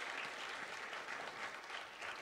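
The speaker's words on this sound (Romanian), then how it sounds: "vreau să îi mai aplaudăm încă o dată" An audience claps steadily and densely at an entrepreneurship education event in Brăila, a sustained, even wash of applause with no pauses or voices over it.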